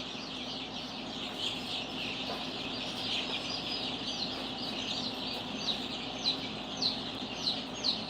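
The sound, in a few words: baby chicks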